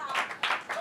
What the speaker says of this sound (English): Pity clap.